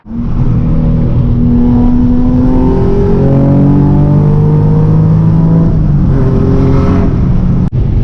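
A loud Nissan 350Z engine pulls hard, its pitch climbing steadily through the gears, briefly dropping at a shift, then rising again before cutting off.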